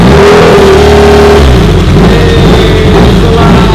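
A drift car's engine runs with only headers fitted and no exhaust, blasting a very loud, raw, close rev that holds briefly, then drops to a harsh, rumbling idle.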